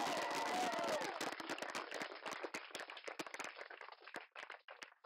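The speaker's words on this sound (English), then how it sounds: "Give him a clap." Wedding guests clap just after the kiss at a ceremony, a brief burst of crowd applause that quickly thins into scattered individual claps, fairly faint overall, with a brief voice or cheer at the start.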